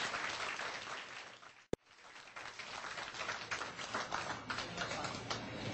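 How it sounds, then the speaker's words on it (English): Guests at a golden wedding reception applaud a performer in a steady, fairly faint wash of clapping, broken by one sharp click, after which the clapping resumes and carries on evenly. "A big round of applause for her."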